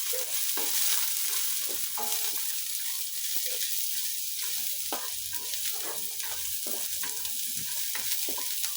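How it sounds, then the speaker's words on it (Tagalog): Garlic sizzles in hot oil in a pan, a steady loud frying hiss broken by scraping stir strokes as it is tossed around. "Gigisahin na natin yung ating bawang."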